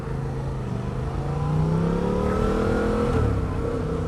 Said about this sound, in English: I'll put it from first to second. So, as we mentioned, we're going to feather off the clutch, roll on the throttle